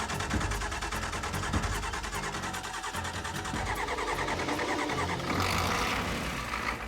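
An old dually pickup truck cranks and its engine catches, settling into a steady, loud mid-pitched idle and rev that runs continuously close by, with a brighter rise near the end.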